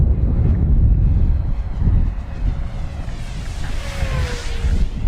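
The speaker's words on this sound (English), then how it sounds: "Just a rocket fast plane" FMS P-40B Flying Tiger 980mm electric RC model warbird racing fast and low through a valley, its whine faint and shifting over heavy, steady wind rumble on the microphone.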